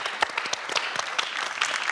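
Studio audience on a Tunisian television game show breaks into brief applause, a quick burst of crisp overlapping claps lasting about two seconds with no talking.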